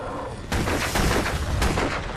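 Gunfire in the game Alan Wake Remastered, a dense burst of loud rapid shots with sharp cracks and booming low end, filling the clip after a brief lead-in.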